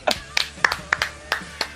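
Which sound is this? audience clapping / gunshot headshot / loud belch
audience clapping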